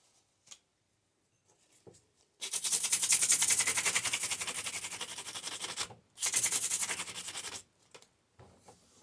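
Hand sanding with sandpaper on a thrifted piece being redone for a church foyer, two bursts of close, rhythmic scratchy rubbing separated by a short pause, with a few faint taps before and after.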